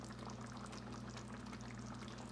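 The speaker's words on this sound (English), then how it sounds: "I want y'all to see how it's just like bubbling" Thickening sauce bubbling in a pan on the stove, a steady, soft simmering fizz with no break across the short stretch.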